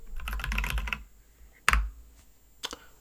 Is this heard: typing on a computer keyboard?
yes